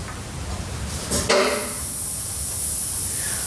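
An air compressor hisses steadily in a workshop where forged aluminium and carbon wheels for Ducati Panigale and Streetfighter motorcycles are being handled, a sudden bright burst of air rising into a loud, continuous hiss that persists to the end.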